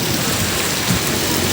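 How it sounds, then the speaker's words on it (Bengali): Heavy rain pours down steadily in Noakhali town, a dense, even hiss of drops striking surfaces, close and loud without a break. "সেই বৃষ্টি, প্রচণ্ড বৃষ্টি।"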